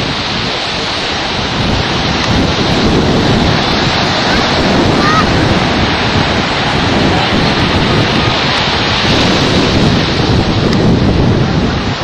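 Surf rolls onto Kapuna Beach in Hawaii in a loud, continuous roar, with wind buffeting the microphone throughout.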